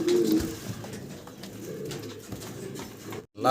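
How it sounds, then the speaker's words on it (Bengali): Many fancy pigeons kept together coo softly and continuously in the background, a low murmuring flock sound that holds steady before a brief drop near the end. "ভিডিও স্ক্রিনে আমরা অনেকগুলা কবুতর একসাথে দেখাচ্ছি আপনাদের।"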